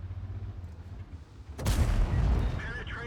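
A tank cannon fires with a sudden loud boom in a tank video game, followed by a rumbling aftermath and quieter in-game mechanical sounds.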